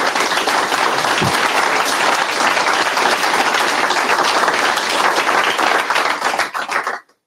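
Vigorous applause from an audience at a corporate product event, thick and continuous at close range, ending abruptly near the finish.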